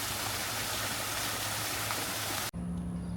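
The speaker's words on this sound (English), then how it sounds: "A waterfall there." A waterfall in the Oriental Gardens pours as a dense, steady rushing wash of water, close and continuous, cutting off abruptly near the end.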